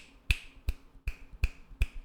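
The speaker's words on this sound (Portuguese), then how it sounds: "elas recebiam respostas mediante estalar de dedos" Five crisp finger snaps at a steady, even rhythm, close and clear against a quiet background.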